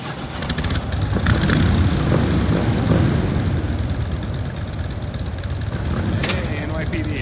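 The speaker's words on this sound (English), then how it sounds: "get these guys to jump on their bikes, fire up, do a little warm up" Motorcycle engines fire up and warm up at a Toronto motorcycle show track, a dense continuous rumble of several bikes close by with occasional revving, under people talking.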